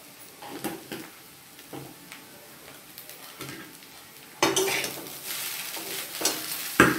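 Rice noodles seasoned with salt and chili powder are stirred and fried in a pan, with a soft sizzle under scraping and clinking of a utensil against the pan, growing louder and busier in the last few seconds.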